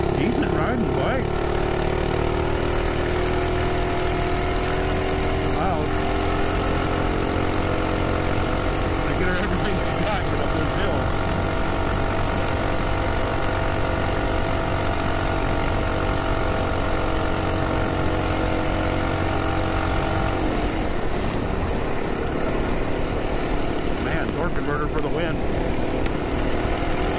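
A Ghost 212 minibike engine runs continuously, a loud steady buzzing drone close by, with the pitch rising and falling as it revs and a voice talking over it.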